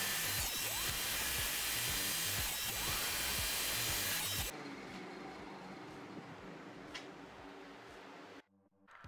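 Table saw with a crosscut sled trimming a wooden plant stand leg, a loud high whine of the blade biting through wood for several seconds, then a lower spin-down and a short pause.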